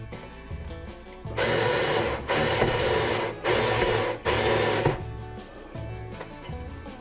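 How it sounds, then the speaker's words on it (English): A power drill countersinks screw holes for model railroad lighting, four loud whirring bursts in a row, each about a second long with short pauses between, close and alone. "So give it a little countersink."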